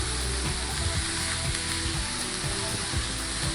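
Butter and onions sizzling in a pan while being stirred for a chicken quiche lorraine, a steady close hiss with soft, repeated scraping knocks from the spoon.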